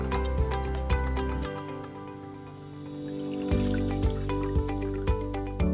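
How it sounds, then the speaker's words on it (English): Saline solution pours into the water tank of a SinuPulse Elite nasal irrigator, making close liquid splashes and trickles with a few sharp drip-like taps. "Then you're going to add the solution to the water tank."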